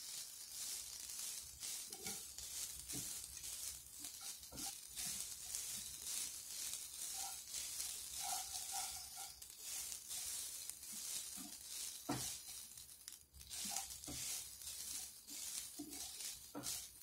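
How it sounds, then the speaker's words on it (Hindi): Fresh grated coconut fries in a pan for a South Indian karela theeyal. A faint, steady sizzle with scattered soft crackles and stirring scrapes runs close and quiet throughout, with no voice over it. "ये भी हम एक बार अच्छे से फ्राई कर देंगे।"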